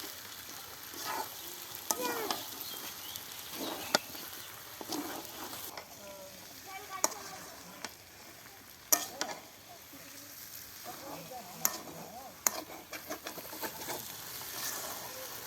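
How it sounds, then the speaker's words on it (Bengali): Potatoes fry outdoors beside a pond in a pan, sizzling softly under repeated scraping and stirring strokes, with occasional clinks and a faint voice in the background. "আলুগুলো ভালো করে ভেজে নিচ্ছি"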